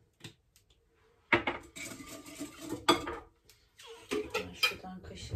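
Metal spoon clinking against dishes and kitchen utensils while spices like cumin and chili powder are measured out, a few bright scattered clinks and rattles, close and fairly loud, with someone speaking in between.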